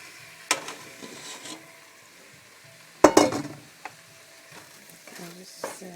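Tomatoes tipped into a pan of softened, translucent onions and stirred, giving a soft sizzle with a few sharp spoon-on-pan knocks and scrapes, close and fairly quiet.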